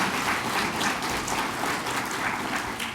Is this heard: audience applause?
yes